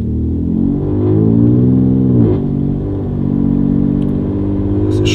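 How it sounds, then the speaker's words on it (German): A Ford F-150 Raptor V6 truck engine with a valved exhaust and HJS downpipe revving close by, its deep exhaust note rising and falling through a couple of throttle blips. "Es ist natürlich kein V8, sondern V6, aber jetzt hören wir mal kurz hin."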